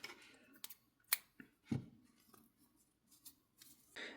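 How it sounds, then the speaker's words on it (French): Scissors snip crochet yarn in a few quiet, sharp clicks spread across a few seconds, close but faint in an otherwise hushed room. "Et je vais couper le fil."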